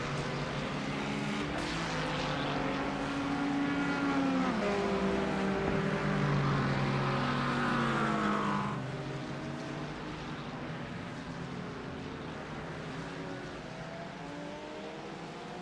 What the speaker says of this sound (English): I love the sound of the number 40's BMW.